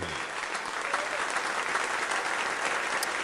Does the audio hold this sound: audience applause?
yes